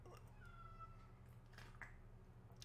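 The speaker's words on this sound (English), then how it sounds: "if you hear the cat meowing, it's trying to pound at the door because it wants in" A cat meowing at a door, wanting to be let in, a few short, faint meows in a quiet indoor room.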